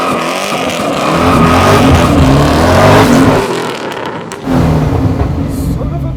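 A twin-turbo 1969 Camaro pro touring build of over 1500 hp roars loud and close as a standing burnout, its engine revving hard with tire squeal, the noise dipping briefly before surging again.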